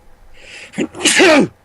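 A single loud sneeze, close up, with a short sharp inhale before the burst.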